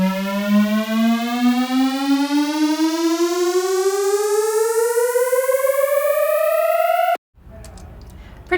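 A synth riser built in Serum sweeps steadily upward in pitch over about seven seconds, loud and buzzy like a rising siren, then cuts off abruptly into a brief noisy tail.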